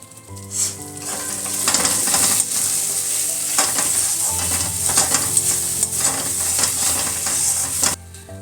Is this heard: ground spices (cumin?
yes